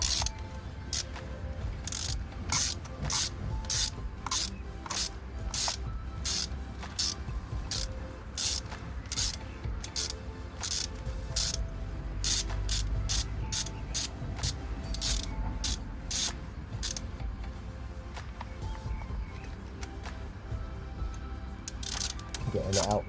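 Ratchet on a VW Polo glow plug, a long run of sharp, evenly spaced clicks close up and fairly soft, with a low rumbling background underneath.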